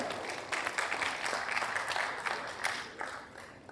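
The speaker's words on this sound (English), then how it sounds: "she really needs a big round of applause, ladies and gentlemen" Audience applause at a business conference on women founders, a moderate, steady wash of many hands clapping that swells and dips slightly over several seconds, with no talk over it.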